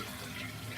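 A household water line leaks slightly, producing a faint, steady hiss of running water that is close and continuous, with no voices.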